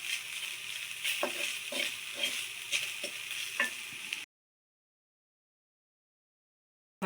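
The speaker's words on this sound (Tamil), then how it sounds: "ஒரு 5 நிமிஷம் நம்ம நெய்யில் வறுத்துட்டா போதும் தேங்காவை." Grated coconut fries gently in ghee for beaten-rice laddoos. A soft sizzle carries light stirring clicks for about four seconds, then the sound cuts to silence.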